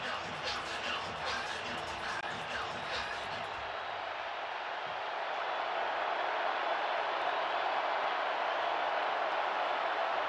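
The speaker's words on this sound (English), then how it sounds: "this crowd making some noise" Stadium crowd at a college football game between Tennessee and UConn roaring before a third-and-goal play, a distant, broad wash of noise that swells slightly louder toward the end.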